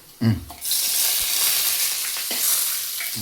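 Dried red chillies hit hot oil in a pan with a sharp burst, then settle into a steady, loud sizzle with occasional stirring clinks and scrapes.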